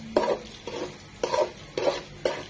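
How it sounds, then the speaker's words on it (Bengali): Raw polao rice being stir-fried dry in a pan, with five sharp crackling, scraping bursts as a spoon turns the grains in a steady rhythm, close and fairly loud with no voices. "যখন দেখবো চালটা থেকে এরকম মশমশ শব্দ হচ্ছে"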